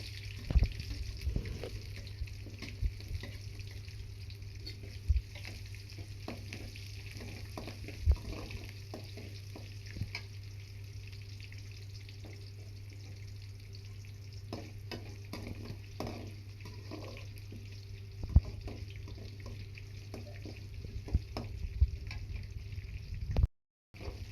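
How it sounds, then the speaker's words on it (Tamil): Whole dark spices and small onions sauté in a pan for tomato rice, giving a quiet steady sizzle punctuated by sharp spoon clinks and scrapes against the metal over a low hum. "இந்த பிளாக் கலரில் இருக்கிற ஸ்பைசஸ்ஸு இதெல்லாம் போட்டுட்டு நல்லா வதக்கி விடணும்"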